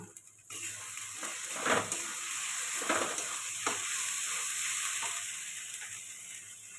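Marinated mutton tipped into hot oil and spices and stir-fried, a loud steady sizzle from about half a second on, broken by a few scraping spatula strokes against the pan.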